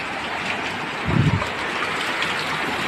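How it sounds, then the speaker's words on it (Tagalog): Heavy rain pours off a broken gutter, a steady close rushing and splashing of water with one brief heavier gush partway through. "Ayan po, ang tubig ay pumapasok na lahat, kaya basang-basa sa ulan."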